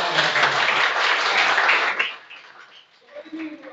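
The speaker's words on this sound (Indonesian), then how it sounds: "Tepuk tangan untuk." Classmates in a school classroom clap together in a burst of applause, dense and fairly loud for about two seconds before thinning out and fading, with a voice picking up as the clapping dies away.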